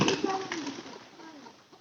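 A pigeon coos softly nearby in short low murmuring calls, partly under someone talking.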